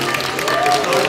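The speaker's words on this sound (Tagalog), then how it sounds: "Palakpak naman dyan, para ganahan naman tayo." Audience applause at a concert pre-show, a brief burst of dense clapping from a crowd, with a voice speaking over it.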